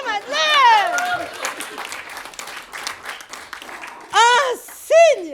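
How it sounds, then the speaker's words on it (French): Theatre audience clapping during a live stage show, a broad patter of applause through the middle, with loud voices talking and exclaiming before and after it. "On applaudit Marie-Madeleine!"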